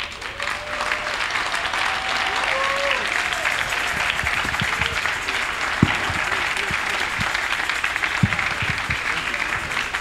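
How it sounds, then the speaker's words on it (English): Sustained applause from a live audience after a speech, a steady dense wash of clapping with a few sharper close claps and faint voices mixed in. "Can we just put our hands together again? Just clap more."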